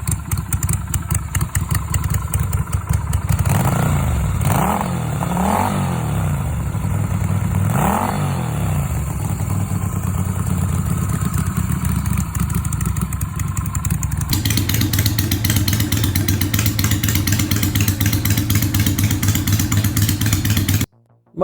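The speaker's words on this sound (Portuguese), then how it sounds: "dará o som clássico do motor da Virago 250" A Yamaha Virago 250 V2 motorcycle engine runs nearby with a loping, uneven idle, blipped up through a few quick revs midway, then settles back into a steady, rumbling idle until it cuts off.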